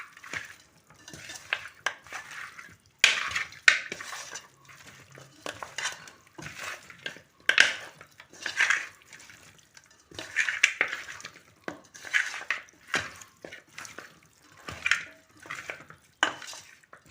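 Chicken is worked by hand with salt, turmeric and pepper powder in a vessel, giving irregular squelching and scraping bursts in an uneven rhythm, close and fairly quiet, with no talking.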